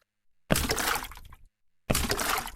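Layered footstep run sound effects in Unreal Engine, splashing water steps mixed with concrete footfalls, come as two loud dense bursts separated by a short silence.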